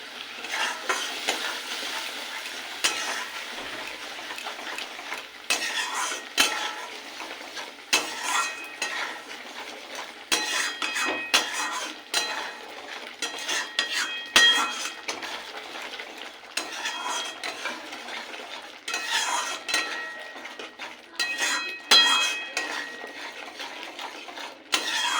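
Poppy seed paste sautés in oil for rui posto, a soft sizzle under frequent scraping and clinking of a spoon against the pan in uneven bursts.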